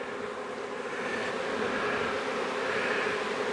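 Honeybees buzz on hive frames filled with dandelion nectar, a continuous close, even drone with no talking.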